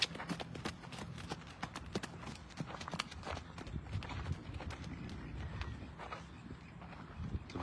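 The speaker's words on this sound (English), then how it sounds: "Kind of trot her on, show them that she's sound." A paint mare trotting out at a horse sale, hooves clip-clopping in a steady rhythmic beat at moderate distance, with faint background noise and no talk.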